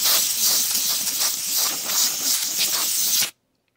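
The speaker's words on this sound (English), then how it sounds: "I'll do a little freeze mist upside down" A freeze mist spray can held upside down blasts into a Holmes HCH5265C-BU space heater being serviced, giving a loud, steady close-up hiss that runs unbroken for about three seconds and then cuts off abruptly into silence.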